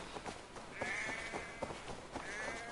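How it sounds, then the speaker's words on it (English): Sheep bleat in Assassin's Creed Valhalla, a couple of drawn-out wavering calls rising over scattered footsteps and soft ambient game noise, fairly faint and close. "I'm gonna get some free sheep."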